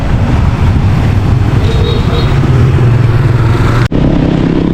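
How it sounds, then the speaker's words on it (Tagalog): Motorcycles and tricycles passing close by on a busy road, a steady loud engine drone with clattering traffic noise throughout and a brief drop near the end. "Mga motor."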